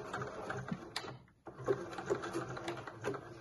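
Sewing machine understitching a dress neckline, a quiet rapid mechanical whir with a brief pause midway before the stitching resumes.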